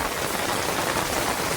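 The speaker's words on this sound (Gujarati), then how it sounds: "છત્રીની જરૂર પડે એટલો વરસાદ પડ્યો રહ્યો છે ફૂલ." Heavy monsoon rain pours down in a dense, even hiss of drops striking the ground and surfaces. It is loud, close and unbroken, with no talk.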